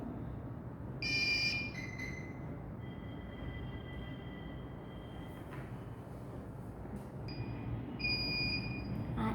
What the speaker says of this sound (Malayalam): ഇപ്പോൾ ആൽക്കഹോൾ വെക്കുമ്പോൾ ബസർ ശബ്ദമടിക്കും